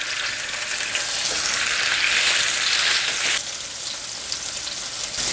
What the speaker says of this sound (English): now that my oil is hot enough, I'm going to go ahead and add my fish